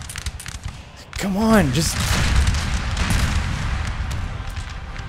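Artillery firing solid shot on a Napoleon Total War battlefield, a dense rumble of booming cannon volleys and crackling fire, with someone briefly speaking over it.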